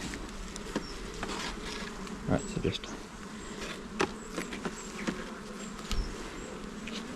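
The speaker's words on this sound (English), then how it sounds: "some bees on this piece of comb here" Honeybees buzz steadily around an open hive during an inspection, a close, continuous hum with scattered individual bees zipping past, while a person speaks briefly over it.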